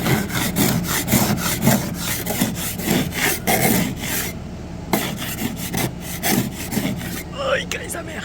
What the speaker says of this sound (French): Aujourd'hui, on gratte.